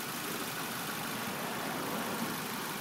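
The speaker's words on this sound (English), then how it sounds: "Nice quiet motor." The engine of a rat rod Cube car idles quietly, a faint, steady hiss-like hum with no distinct beats and no talking.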